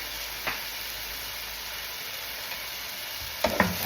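Pakbet with shrimp paste sizzles steadily in a pan over a lowered flame, a constant close frying hiss broken by a few soft clinks of utensils.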